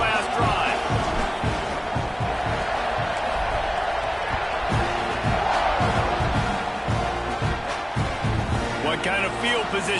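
Roaring football stadium crowd at an Aggies game, cheering and whooping steadily after a touchdown drive as the kickoff unit takes the field, with a play-by-play commentator speaking over the din.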